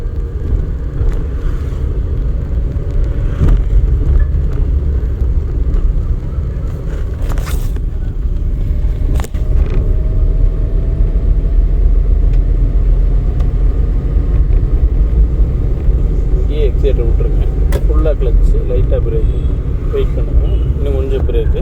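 A car moves slowly with a light touch on the accelerator during a driving lesson. A low, steady engine rumble runs throughout, and a voice gives instructions over it, with occasional clicks and scrapes inside the cabin.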